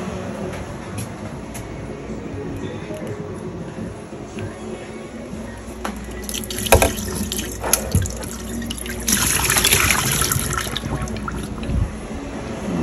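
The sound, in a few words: water being poured out of a canning pot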